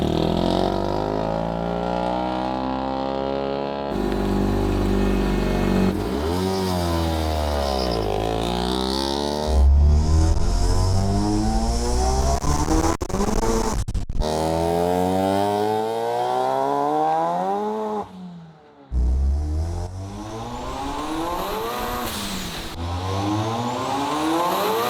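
An LS-swapped RX-7 rips through repeated wide-open-throttle pulls, its V8 note climbing hard through each gear with sharp shift breaks and a brief lift near the end, loud and close from inside the car.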